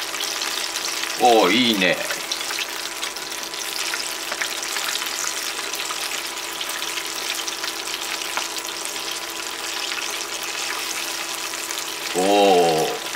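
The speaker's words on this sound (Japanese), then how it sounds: "残りのね、肉もちょっと焼いてっちゃうか。" Pieces of chicken karaage frying in oil in a pan, a constant close sizzle throughout, with a short spoken remark at the start and again at the end.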